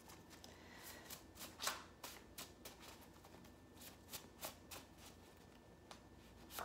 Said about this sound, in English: Let's do a little more shuffling.